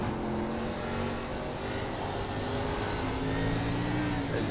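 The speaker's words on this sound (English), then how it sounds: "You see him going through the gears, trying to get turned around." A race car at South Boston revs and climbs through the gears in a steady, loud engine drone with rising and falling pitch, nobody speaking over it.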